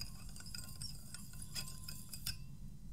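A spoon stirring in a glass of water to dissolve monosodium glutamate and sugar samples, light quick clinks tapping irregularly against the glass, faint and close, with no voices.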